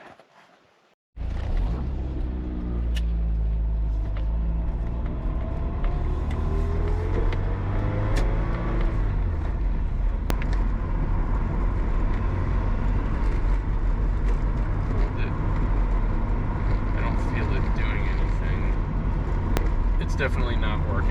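A Porsche 944 on a test drive after cruise control repair work, with a steady loud engine and road drone starting abruptly and continuing throughout, close and continuous with faint rattles over it.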